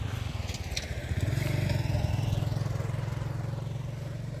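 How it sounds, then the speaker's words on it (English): A motorbike engine hums at a steady low drone nearby, its pulsing putter continuing throughout, with no voices. "one motorbike carrying 12 bag water jerrycan from this river"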